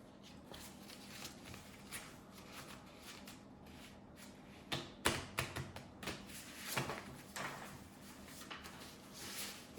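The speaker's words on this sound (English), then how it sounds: "make sure those green ones are nice and shuffled" A deck of game cards is shuffled with soft riffling and tapping, faint at first, then a busier burst of crisp card flicks and taps midway before settling back down.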